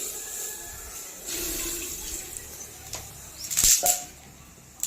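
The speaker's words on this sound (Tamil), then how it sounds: "கொஞ்சம் கொஞ்சம் பால் ஊற்றிக்குவோம்" Milk is poured a little at a time into pongal pots that already hold banana, a soft running trickle against outdoor ambience that swells into a louder splashing burst near the end.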